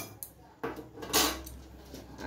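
A spoon clinks softly against a clean bowl as about a spoonful of fenugreek seeds goes in, giving a few faint, brief metallic taps in a quiet room.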